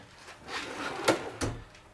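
Pantry drawers in a 2014 Newmar Canyon Star 3911 motorhome slide and bump shut, two quick knocks about a third of a second apart over a soft rolling slide, fairly close and moderately quiet.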